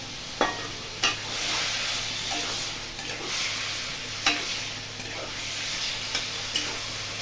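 Marinated chicken stir-fried in spice paste with released oil for Bengali-style hariyali chicken, a continuous close sizzle with a few sharp clacks of a spatula against the pan, no talking.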